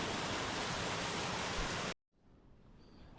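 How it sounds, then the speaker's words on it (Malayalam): A small stream flows along a hillside trekking trail in Kerala, a loud, steady close rush of water that cuts off abruptly partway, leaving quiet outdoor ambience. "നല്ല ഭംഗിയുള്ള ഒരു അരുവി ഇതിലെ വരുന്നുണ്ട്"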